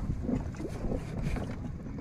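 A boat moves along the Gangavalli river during a scuba diving search, its steady low engine rumble and water wash blending with wind noise on the microphone throughout, with no clear voices.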